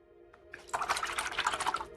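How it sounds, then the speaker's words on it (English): A paintbrush is swished and rinsed in a water jar, a close, brief flurry of soft sloshing and clinking taps lasting about a second and a half. "And then rinsing my brush"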